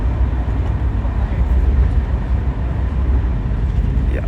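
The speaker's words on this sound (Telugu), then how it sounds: "మరి పక్కనే ట్రైన్ వెళ్తుంది కనిపిస్తుంది అనుకుంటా" A train runs by on the adjacent track, heard from inside a moving passenger train between Hyderabad and Delhi, a continuous heavy low rumble and rattle that fills the clip and fades slightly near the end.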